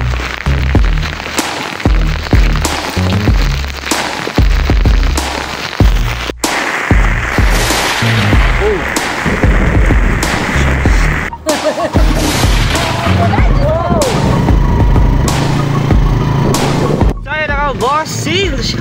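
Firecrackers and fireworks pop and boom repeatedly outdoors at night around 6:48 PM, a dense string of sharp bursts with occasional louder blasts and crackling, close and loud throughout.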